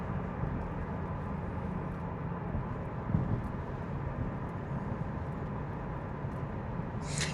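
A car with a CVT transmission on a short test drive after a quick lube service, heard from inside as a steady low engine and road drone with wind noise, continuous and fairly loud, with no talking.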